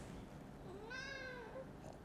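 A cat gives a single drawn-out meow lasting under a second, fairly faint and close, over a quiet room-tone background with no talk.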